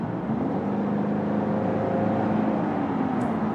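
A 2022 Subaru Impreza Premium hatchback with a CVT revs steadily under throttle, a smooth sustained engine drone with a slowly rising tone and constant road noise, close and fairly loud, no talking.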